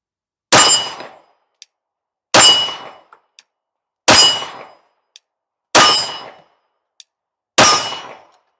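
Five loud metallic clangs ring out at even intervals, a Gen 2 Glock 17's rounds striking steel targets at 15 yards, each strike decaying quickly and followed by small faint clinks.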